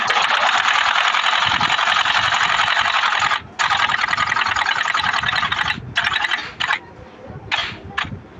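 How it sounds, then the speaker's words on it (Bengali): Sewing machine stitching one side of a zipper onto a trouser patch, loud close whirring runs in fast steady stitching bursts, a long stretch then several shorter stop-start runs. "এই শুধু চেনের এক সাইড সেলাই পট্টির সাথে জয়েন করে দেব।"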